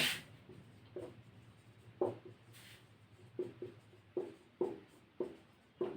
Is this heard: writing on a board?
yes